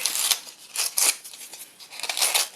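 Top layer of paper honeycomb packaging peeled back by hand, a series of dry, crackly tearing and rustling bursts close up, with brief pauses between pulls.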